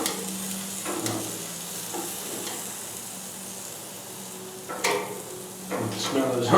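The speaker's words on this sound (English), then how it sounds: "You can smell those onions down there cooking." Onions sizzling on a Napoleon grill beside burgers, a continuous close hiss and crackle with occasional scrapes and bursts of louder frying near the end; no talking.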